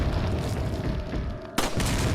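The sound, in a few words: explosion in Resident Evil 4 video game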